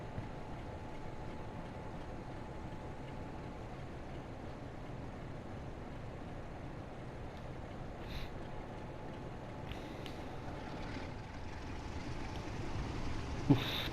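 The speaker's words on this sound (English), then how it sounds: "just to hear the engine roar up" A BR Class 47 diesel locomotive engine in Train Sim World 2 on the Northern Transpennine route drones steadily throughout, a low continuous rumble with faint rising roar toward the end, no talk.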